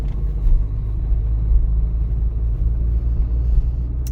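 A car pulls away and drives straight ahead during a driving test, with a steady low engine rumble and road noise from inside the cabin, constant in level and with no one speaking.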